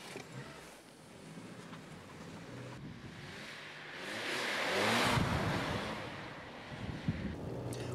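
A car on a test drive to find out what is wrong with it, heard from inside as steady road and engine noise with wind, swelling louder midway as it pushes on, with no talk.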